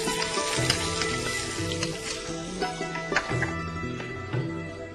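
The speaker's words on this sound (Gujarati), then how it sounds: "2 નંગ તમાલપત્ર લઈશું, સાથે થોડી હિંગ, એની સાથે 1 નંગ ઝીણું સુધારેલું કાંદા લઈએ છે." Chopped onion fries in hot oil with bay leaves and asafoetida, giving a steady close sizzle with light crackles and stirring scrapes throughout.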